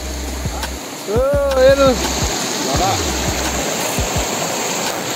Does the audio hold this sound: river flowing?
yes